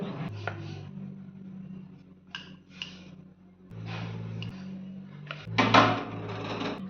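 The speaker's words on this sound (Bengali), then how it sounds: "প্রত্যেকটা লেচি রুটির মতো করে বড় বড় করে পাতলা সাইজের করে বেলে নিতে হবে" Lachha paratha dough balls rolled out thin with a rolling pin on a dusted surface, giving soft repeated wooden rolling and tapping knocks in an uneven rhythm, close by and moderately quiet, with no talk.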